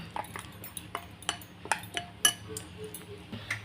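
Pakora batter of long beans with fresh cumin is mixed in a bowl, giving a series of light, irregular clinks and taps of a utensil against the bowl, fairly close and quiet.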